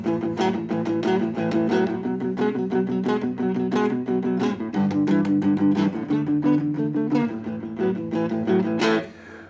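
Loud rock guitar power chords strummed in a driving rock and roll rhythm, with steady chugging attacks and a brief pause near the end.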